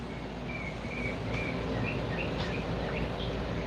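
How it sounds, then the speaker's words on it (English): Faint bird chirps repeat at a steady pace over a constant low hum and broadband background noise, the calls thin and distant. "Oh, I could hear the bird again."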